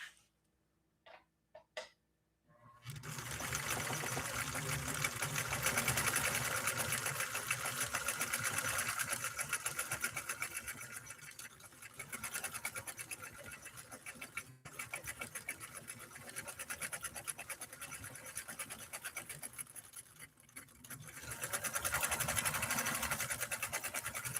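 A Nordic Husqvarna automatic sewing machine runs a cam A stitch pattern, starting after a few light taps and then whirring in a steady, close, rapid needle rhythm for about twenty seconds.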